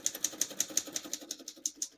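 Rapid typing on a 1935 Corona Silent portable typewriter, a brisk, even run of about a dozen crisp key strikes, close and clear, with no voices.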